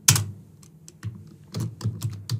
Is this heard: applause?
no